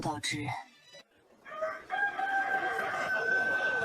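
After a few brief vocal sounds, a rooster lets out a long, clear crow, fairly close and loud, trailing off slowly.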